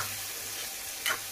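Chopped tomatoes with red chilli, turmeric and coriander powders frying in a pan, giving a soft continuous sizzle and one brief stir near the end, close and quiet.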